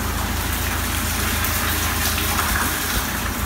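Water gushes and splashes steadily from hoses removed from the low points beneath a farm sprayer being drained for winter, a continuous close, fairly loud rush with no pauses and no voices.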